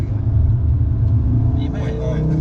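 A car cornering hard at about 0.8 G on an open road, its loud engine rumbling steadily close up with tyre and road noise, while people talk inside the cabin.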